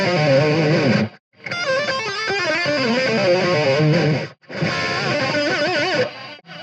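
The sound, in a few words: guitar minor pentatonic lick with pull-offs and slides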